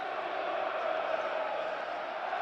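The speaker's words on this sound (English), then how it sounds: "Listen to the crowd getting behind the home team." West Ham home crowd at a Premier League football match against Burnley, a steady, sustained roar from a large stadium crowd, distant and unbroken.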